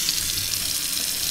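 Water draining out of perforated lids on broccoli sprouting jars, a steady close hissing trickle and splash with no talking.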